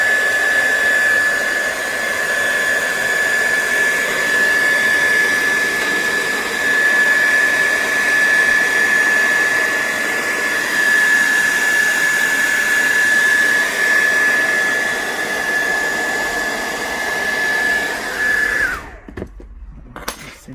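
Loud, steady roar of a hot air gun blowing on an HP Pavilion x360 laptop touch screen digitizer, a continuous whine for about eighteen seconds before cutting off abruptly, followed by a few faint handling sounds.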